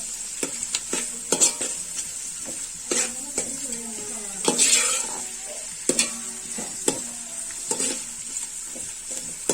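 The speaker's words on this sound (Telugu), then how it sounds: "ఇలా రెడ్డిష్ బ్రౌన్ గా వచ్చేంత వరకు దీన్ని బాగా డీప్ ఫ్రై అవ్వనివ్వాలి." Sliced onions, three of them, deep frying in hot oil for mutton biryani until reddish brown: a steady loud sizzle broken by repeated clattering stirs and scrapes of a spoon against the pan, with no talking.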